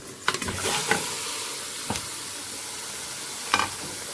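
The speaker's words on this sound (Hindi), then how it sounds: "अब ये गोश्त डाल के 1 मिनट में इसको फ्राई कर लेती हूँ" Mutton sizzles and fries in a hot karahi with a steady hiss, broken by occasional scraping stirs, close up and without voices.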